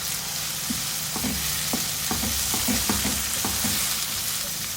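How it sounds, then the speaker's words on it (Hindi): Onion softened in a pan sizzles steadily with a spoonful of garlic-ginger paste stirred in, a continuous close frying hiss broken by sharp clicks and scrapes of a spoon against the pan. "फ्राई करेंगे इसको।"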